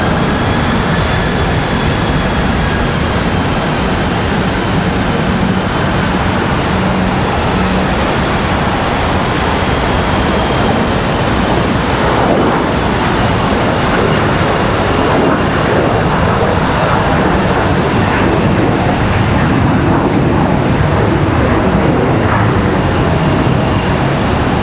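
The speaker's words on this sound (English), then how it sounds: "Do love some rapid fire departures." Jet airliners departing one right after another at Charlotte Douglas airport, a continuous loud roar of engines that swells and fades as each aircraft climbs out close by, with no pause between departures.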